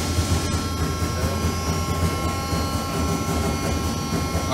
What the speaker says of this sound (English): This is a demonstration of an AccuPress CNC 8-foot press brake.